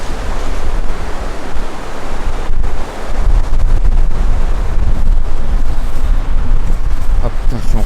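Strong, roaring wind blasting the microphone in a steady broadband rush, with a brief lull partway through and no clear talking.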